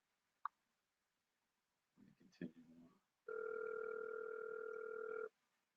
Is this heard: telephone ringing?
yes